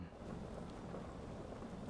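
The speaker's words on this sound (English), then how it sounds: "now you can listen to the beautiful pitter-patter of the rain" Rain falls steadily outside the open cockpit window of a Douglas DC-6 in Microsoft Flight Simulator, a soft, continuous hiss of pattering drops heard faintly and alone.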